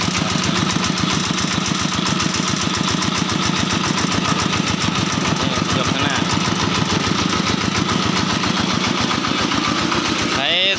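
A homemade walk-behind tractor engine runs steadily and close up, with a rapid, even chugging pulse throughout while someone speaks over it.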